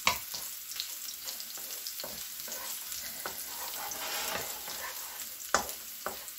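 Garlic frying in a pan with bok choy, a steady close sizzle with occasional stirring scrapes and clinks, no one talking.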